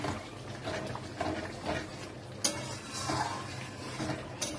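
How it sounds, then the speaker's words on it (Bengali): Garam masala is stirred into katla fish tel jhal, a spicy oil-based curry, as it fries in a pan. Scraping stirs and clinks of utensil on pan sound over a constant sizzle, with sharper knocks near the middle and the end. "সবশেষে দিয়ে দেবো গরম মশলা, একটু নাড়িয়ে দেবো।"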